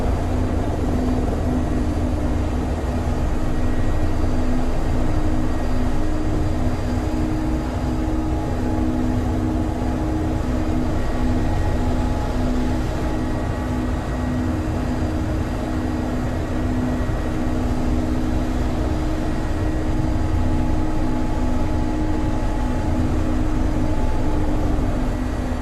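An Mi-24 helicopter flies, captured as a continuous, loud, droning rumble with a steady low hum and engine tones that persist without a break throughout.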